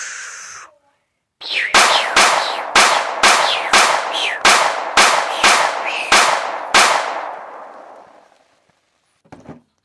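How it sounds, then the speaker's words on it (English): Machine gun fire in a World War I video game cracks out as about ten loud, sharp, evenly spaced shots with echoing tails, then falls silent before a faint final pop. "Machine gun."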